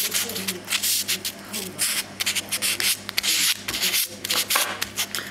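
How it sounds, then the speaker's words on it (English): Close, scratchy rubbing as the back of a titanium butterfly is roughed up to clean off grease, coming in quick uneven strokes with short pauses, loud and alone. "rough up the back just to clean it as well, just to get rid of all the grease"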